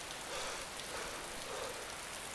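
Steady rain falling in the video game DayZ, a continuous dense hiss of drops on surfaces, even and unbroken throughout with no voices.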